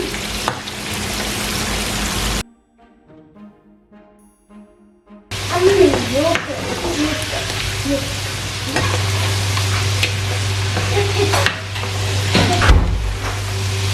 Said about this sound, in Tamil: ஸோ இந்த மட்டியை வந்து நான் நல்லா கோல்டன் ப்ரௌனாக பொரிச்செடுக்க போகிறேன்.